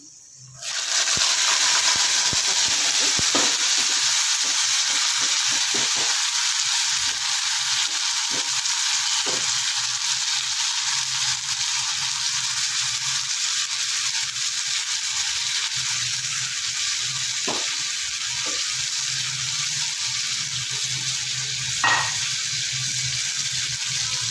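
Field beans with onion, turmeric and asafoetida sautéing in hot oil in a Konkan-style kitchen, a steady close sizzle with a bright hiss that runs throughout, and a few soft spoon taps on the pan.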